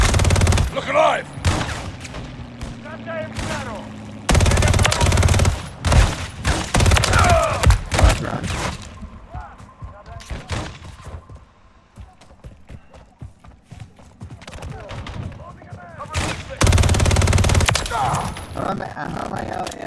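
Gunfire in Call of Duty Modern Warfare 3 Zombies, with rapid automatic bursts and scattered shots rattling loudly in clusters, broken by quieter gaps and heard alongside talking.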